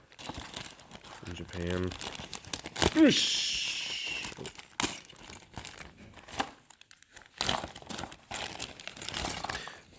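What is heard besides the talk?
crinkling plastic booster bags of miniatures being handled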